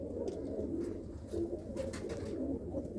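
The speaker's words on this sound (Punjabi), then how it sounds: "ਇਹ ਆਇਆ ਹੋਇਆ ਕਬੂਤਰ ਆ" Pigeon cooing in a home loft kept for racing pigeons, soft repeated coos close by over a steady low rumble, with no talking.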